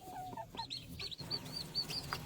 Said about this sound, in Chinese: 我听到小鸡的叫声呢